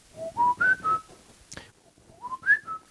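A person whistles a rising, tuneful phrase of several sliding notes, pauses briefly with a short sharp click, then whistles a similar rising run again at two pitches, clear and close with no talking.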